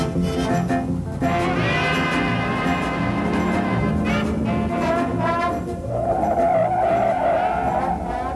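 A Buick Riviera boat tail with a 455 engine brakes hard from 50 mph, its tires skidding in a loud, sustained squeal that holds steady for several seconds with no talk over it.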